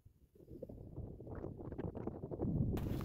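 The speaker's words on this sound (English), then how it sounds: "Jeez, the wind shifted again." Wind gusting outdoors at a remote backpacking campsite in the Pecos wilderness, a low rumbling buffet that swells steadily louder, with no speech.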